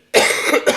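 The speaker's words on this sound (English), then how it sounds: "I'm apologizing that we're coughing" A few rough, harsh coughs in quick succession, loud and close, with a brief pause before the last burst.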